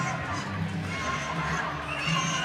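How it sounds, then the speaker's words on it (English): A large crowd roars continuously at a live wrestling bout in Brisbane, a dense wash of cheering from all sides with a voice talking over it. "the volume of the crowd is unbelievable at the moment, and it's coming from all angles"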